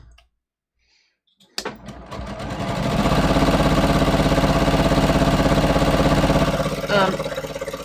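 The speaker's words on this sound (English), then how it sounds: "So I switched my thread to black, and I'm just going to stitch these down." A sewing machine stitches down skirt pleats with black thread, starting after a brief quiet with a click and then whirring steadily and close, with a short catch near the end.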